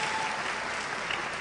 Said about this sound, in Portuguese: Palmas para Rio Verde aí.